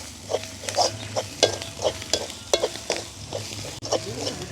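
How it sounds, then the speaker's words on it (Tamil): Spices with turmeric and chili powder being stirred in a hot pan, giving a steady sizzle broken by repeated scraping strokes of a spoon against the pan, close and moderately loud, with no talk. "இப்போ வந்து நல்ல வடிவாக கலந்து விடுவேன்"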